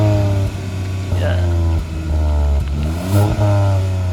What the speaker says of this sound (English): let me know in the comments how you like the noise of the exhaust